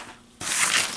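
Dress fabric is bundled and crumpled by hand while sewing a pattern-made dress. After a quiet start, a sudden burst of close, dense rustling and crinkling continues steadily to the end, with no talking.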